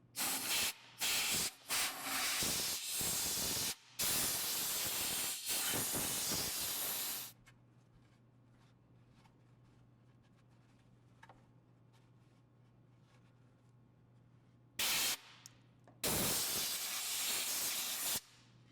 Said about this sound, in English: Spray with penetrating oil.